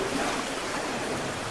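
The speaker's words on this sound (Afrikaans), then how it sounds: "Er komt een beetje water in die grot in." Water surging and washing into a seaside cave, a steady broadband rush of surf and flow held at a constant level throughout, with no voices.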